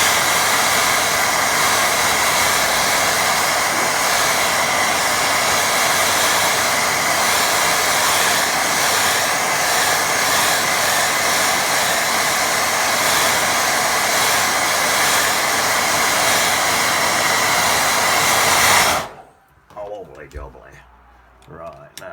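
A hair dryer blasts steadily and loudly over a watercolour painting for nearly twenty seconds, then cuts off abruptly, leaving faint room sounds and brief rustling.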